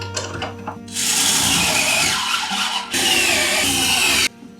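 A drill drives 3-inch screws into a DIY power wall built for boat batteries, with two long harsh whirring bursts, each cutting off abruptly, separated by a short pause. Close and loud.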